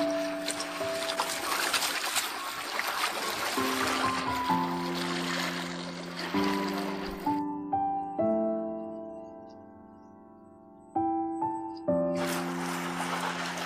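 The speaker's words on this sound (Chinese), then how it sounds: "把青菜清洗干净。" Old garden greens being washed by hand in water, a steady splashing and rinsing that comes and goes, with gentle music over it throughout and the water dropping out for a stretch in the middle.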